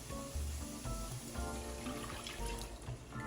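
Filtered water pours steadily into a measuring cup in a kitchen, a continuous close trickle lasting a few seconds with no one talking.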